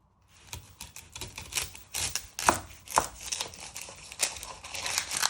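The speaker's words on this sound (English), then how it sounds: "Next step is to prep your onion. You first chop off your ends." Kitchen knife chopping the ends off an onion on a cutting board while prepping hot and sour soup, a run of crisp, close knocks and crunches, some sharp single strikes between softer rustling.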